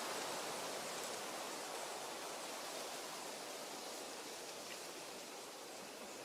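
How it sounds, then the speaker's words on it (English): Broad, soft rushing of wind building through trees near a Cornish river, a steady faint hiss with no voices. "you can hear the wind picking up."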